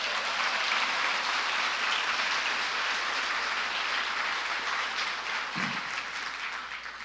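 Sustained, even applause from a church congregation during a sermon, a broad wash of many hands clapping that holds for several seconds before easing slightly.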